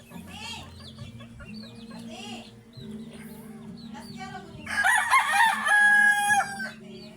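A sweater gamefowl rooster crows near the end, a long, loud, ringing call that follows scattered clucking and someone speaking in the foreground.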